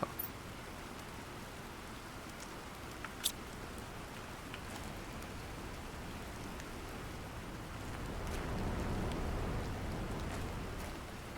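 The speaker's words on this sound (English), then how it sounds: "So this is acid rain, huh?" Acid rain falls in the survival game The Planet Crafter as a soft, steady patter. It swells slightly louder toward the end, with a few faint clicks scattered over it and no talking.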